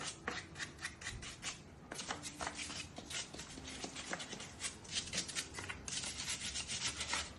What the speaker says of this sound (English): If you don't scrape this off, the resin won't stick to it.